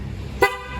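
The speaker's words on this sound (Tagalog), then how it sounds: "So okay naman yung horn niya." Short single honk from an aftermarket PIAA horn fitted to a Honda CB150X motorcycle, sharp and close, standing out alone against quiet background noise.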